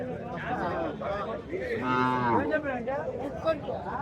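A dairy cow at a large cattle market in Chintamani, Karnataka, gives a long, loud, close moo that swells in the middle, with market chatter and other animal noise around it.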